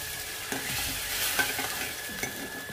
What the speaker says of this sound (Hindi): अब हमारी कढ़ी बॉईल होने वाली है, हो रही है इधर, इसमें हमने ये मसाला इसमें डाल दिया।